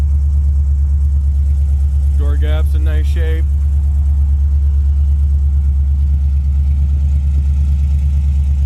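A 1970 Ford Mustang Mach 1 with a 351 engine idles steadily with a low, continuous exhaust rumble and slight exhaust vibration, while a person talks briefly over it.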